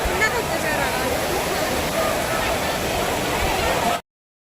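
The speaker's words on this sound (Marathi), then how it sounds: "धबधब्यावर आलो" Steady broadband roar of water pouring down at a monsoon-season waterfall, continuous and fairly loud throughout with no breaks, ending abruptly.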